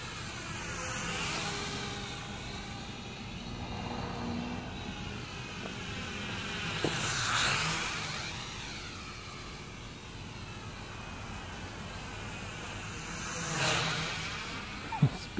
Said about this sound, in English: Let's see, I'll kick the throttle up this time.